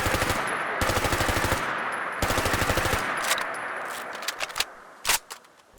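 MP5K submachine gun firing in Fallout 4 in rapid automatic bursts, two long sustained strings of shots followed by a few scattered single cracks and clatters, loud and close.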